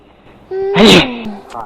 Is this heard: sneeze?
yes